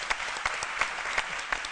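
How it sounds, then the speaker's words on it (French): A studio audience at a French-language humour show claps in a steady patter, with a few sharper individual claps popping out above the crowd's ongoing applause. "Et je pense que ça doit s'applaudir."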